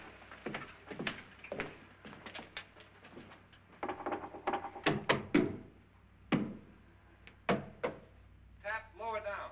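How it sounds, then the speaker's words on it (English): Knuckles knock on an interior wall of a house in a burst of irregular thumps and taps, some louder and some faint, with short pauses between groups and a brief voice near the end. "I'm gonna knock on the other wall. When you hear me, you knock on this wall."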